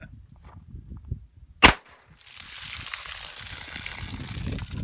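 Blank round fired into a jug of water: one sharp, loud report near the middle, followed by a rising wash of splashing and trickling water, with quiet ambient noise before.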